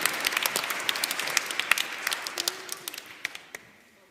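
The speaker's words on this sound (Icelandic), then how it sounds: "Ef ekki gefa Óskari gott klapp." A church congregation at a Sunday service gives a light, scattered round of applause, individual claps clearly separated and fairly quiet, tapering off over a few seconds.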